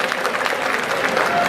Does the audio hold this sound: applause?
yes